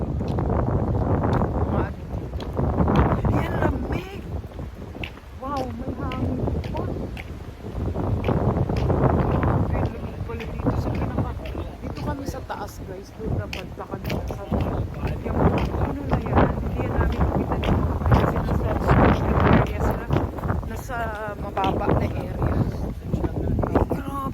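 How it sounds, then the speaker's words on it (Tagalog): Strong wind buffets and roars across the microphone in gusts, loud and close, with rustling and flapping mixed in throughout. "matunog ang hangin"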